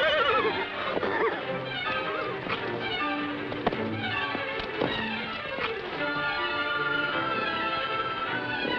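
A horse neighs and whinnies repeatedly in an old western drama, with a few thuds and taps mixed in, loud and close throughout.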